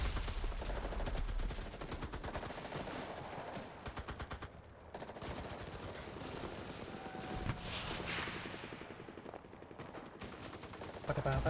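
A tank's coaxial machine gun hammers out sustained bursts in the World War II shooter Enlisted, steady rattling fire with booming impacts mixed in and a voice talking over parts of it.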